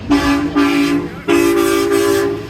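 A car horn honks in a parking lot, loud and close: a short toot, a second short toot, then a longer sustained blast after a brief gap.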